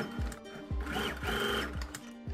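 A sewing machine stitching a folded blouse hem, running in short close bursts with a regular mechanical thump and whir repeating about every half second, no voices.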